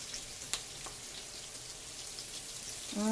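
Onion frying in a pan gives a soft, steady sizzle with faint crackles and a light tap, gently rising toward the end.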